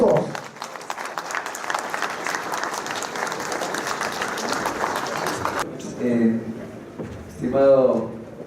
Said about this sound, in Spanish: Vamos a recibir al científico nuclear Modesto Montoya con los fuertes aplausos.